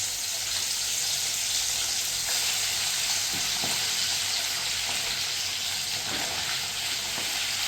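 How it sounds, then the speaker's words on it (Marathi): Boiled mutton pieces frying in hot oil for mutton pickle, a steady loud sizzle and hiss throughout with a few soft stirring scrapes, no talking. "मटण जे आपण घेतले उकडलेलं ते आपण आता तेलामध्ये फ्राय करून घ्यायचं"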